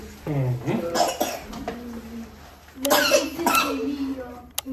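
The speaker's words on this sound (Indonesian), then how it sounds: "Masih pada batuk." Several harsh coughs in two bursts, close and loud, mixed with a voice and brief chatter between them.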